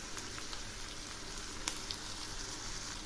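Cumin and coriander powder with ginger paste frying in a pan for a rohu fish head and potato curry, a steady soft sizzle that stays even throughout, with no talk.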